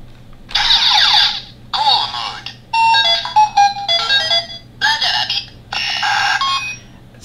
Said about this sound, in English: that was their specific ringtone that you'll only ever hear out of the morphers